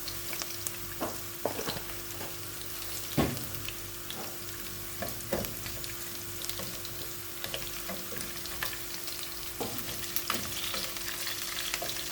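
Masala for kadala curry frying in a pan with fennel seeds added, a steady close sizzle broken by scattered pops and stirring clicks, no voices.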